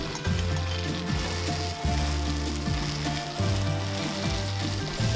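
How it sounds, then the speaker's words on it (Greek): Chopped tomato sautés with spring onions and spinach in a pan for a Greek spring lamb with greens dish, a loud, steady sizzle with occasional stirring under a backing of music. "Μετά προσθέτουμε την ντομάτα, την ανακατεύουμε λίγο."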